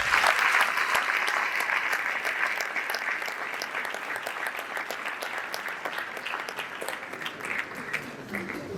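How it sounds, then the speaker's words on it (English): An audience at a student leaders' investiture applauding, steady sustained clapping from a crowd that stays loud throughout and tapers only slightly toward the end. "I think they deserve another round of applause"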